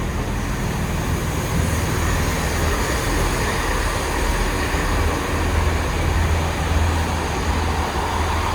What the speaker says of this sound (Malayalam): അവർ ട്രെയിൻ പോയി